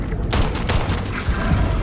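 Pistol fire in the space game Starfield: several sharp, loud shots in quick succession, each with a booming tail, over a dense game soundscape.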